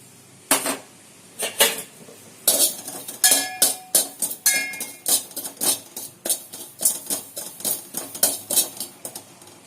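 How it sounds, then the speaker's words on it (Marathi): Poppy seeds dry-roasting in a pan for ukadiche modak, heard as a steady series of sharp metallic clinks and scrapes from stirring against the pan, close up and with no voices. "खसखस भाजून घेऊया"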